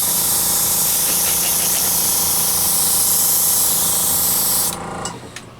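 An airbrush sprays Hobby Lobby acrylic airbrush paint in a loud, steady, close hiss that runs for nearly five seconds, then cuts off sharply, leaving faint clicks and handling noise.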